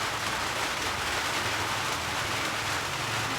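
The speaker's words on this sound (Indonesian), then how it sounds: "di luar sudah mulai hujan" Steady rain falls outdoors around a duck-rearing shed, a soft, even broadband hiss that holds at constant level throughout, with no voices.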